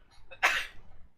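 A single sharp human sneeze, close and fairly loud, preceded by a brief inhale in an otherwise quiet indoor room.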